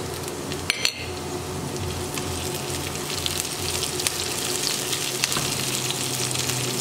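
Chopped green chilies with onions sizzle steadily in a pan during Bengali snack cooking, a soft continuous frying hiss with a couple of sharp utensil clinks near the start and occasional light stirring taps.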